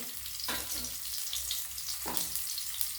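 Chopped onion frying in hot oil makes a continuous bright crackling sizzle, close and steady, with two brief swells where something is stirred or tossed in, and no talk.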